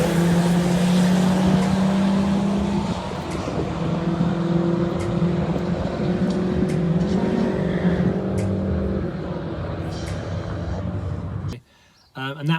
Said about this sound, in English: I'll put that video up now of me wheel spinning pretty much the whole length of Centreport Raceway